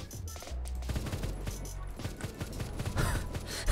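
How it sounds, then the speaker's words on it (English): An LMG fires in the Roblox game Phantom Forces, a loud, rapid, continuous stream of shots that hammers on for the full length with no pauses and no talking. "This gun shoots too fast."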